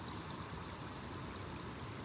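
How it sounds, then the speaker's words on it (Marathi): Warangushi waterfall in the misty Sahyadri hills makes a faint, steady, distant rushing roar of falling water, with no break and no talking. "बघा धबधबा बघा, वारंगुशी धबधबा"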